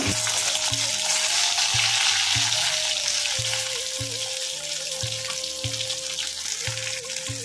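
Fish frying in a pan in a home kitchen gives a steady, loud hiss that carries on unbroken, with a regular low knocking underneath and no speech.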